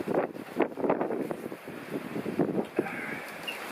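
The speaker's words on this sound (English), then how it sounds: "A little bit overcast today, a little bit windy." Gusty wind buffets the microphone in uneven rumbling bursts, rising and falling irregularly with no voices present.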